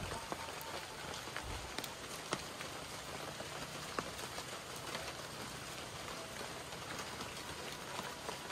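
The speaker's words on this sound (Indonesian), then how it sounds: "Hujannya lembut" Gentle rain falls over a quiet village, a faint, even hiss scattered with soft ticking drops that runs steadily from start to finish.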